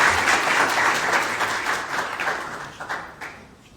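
A hotel signing ceremony audience applauds a speaker onto the stage, a loud, dense burst of clapping from the crowd that gradually thins and fades toward the end.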